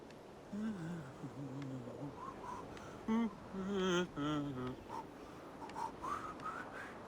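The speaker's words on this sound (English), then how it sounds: "Some people just should not whistle." A character whistles a wandering, off-key tune in Assassin's Creed Origins, short melodic phrases with gaps between them, heard near and alone over quiet game ambience.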